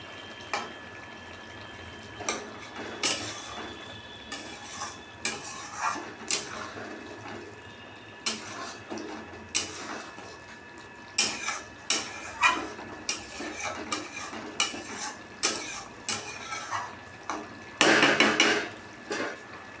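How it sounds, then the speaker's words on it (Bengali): Loitta (Bombay duck) fish being stirred and sautéed in spices in a pan, with repeated scraping and clinking of a utensil against metal in an irregular rhythm, close and fairly clear, no talking. "শুধু মশলার মধ্যেই মাছটাকে আমি কষিয়ে নিচ্ছি।"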